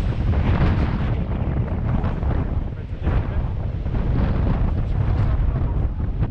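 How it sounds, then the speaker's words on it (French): Strong gusting wind roars continuously and loudly against the microphone, a dense rumbling buffet with no pauses. "Le vent est en train de se lever vraiment fort là."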